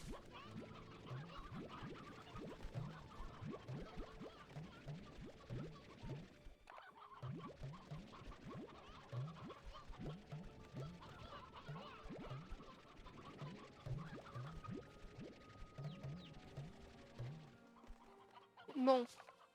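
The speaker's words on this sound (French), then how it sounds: "Je pense que j'ai un peu beaucoup de poules." Chickens clucking in the video game Slime Rancher 2, many soft repeated clucks in an irregular rhythm, fairly quiet, with a short break partway through and a louder burst at the very end.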